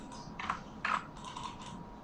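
Someone types on a computer keyboard while entering details into a fitness app, a few quick clusters of key clicks spaced apart, close and fairly soft, with no talking.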